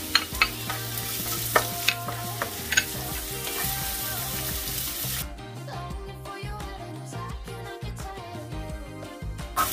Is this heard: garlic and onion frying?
yes